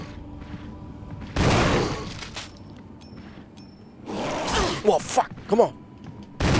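Bursts of gunfire in the Resident Evil HD Remaster game, heavy loud blasts with a cluster of sharper shots later, as a player swears and shouts over the action.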